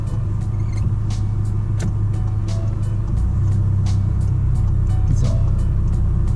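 A car idles and then pulls away in first gear on a German driving lesson, a steady low engine rumble with a turn-signal ticking in a regular rhythm over it.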